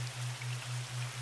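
Steady rainfall hissing evenly over a constant low hum, soft and continuous with no voices.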